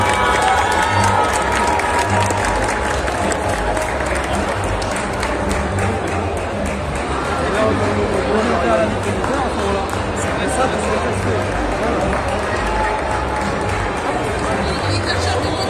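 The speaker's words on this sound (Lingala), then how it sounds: "Est-ce qu'on peut faire un tonnerre d'applaudissements pour Simba?" A large crowd at a Congolese wrestling event in Kinshasa applauds and cheers in a thick, continuous roar of clapping and shouting, loud and close, with babbling voices mixed throughout.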